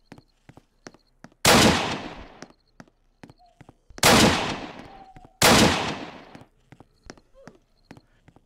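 M1 Garand rifle shots in the video game Apocalypse Rising: three loud, booming single reports with long decaying echoes, separated by quieter ticking game sounds in between.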